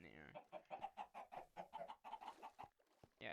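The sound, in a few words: chickens clucking in Minecraft video game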